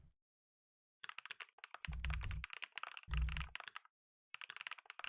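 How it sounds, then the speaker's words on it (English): Keys clatter on a computer keyboard in quick, uneven bursts, with short pauses between runs and two heavier, louder thumps partway through. The typing is close and clear, with no voices. "Can't even type anymore."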